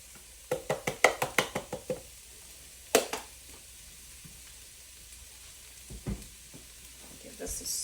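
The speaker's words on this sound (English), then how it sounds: "Give this a stir." A spoon stirs chicken and bean soup seasoned with Greek oregano and cumin, producing a quick run of seven or eight close knocks against the pot, a couple more later, then faint scraping and soft sizzle.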